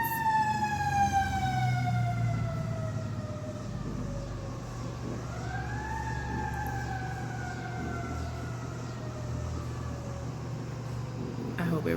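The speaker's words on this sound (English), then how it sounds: "here we go with the sirens" Emergency vehicle sirens outside, a loud wailing tone that slides down and rises again as it passes, over a steady low hum indoors.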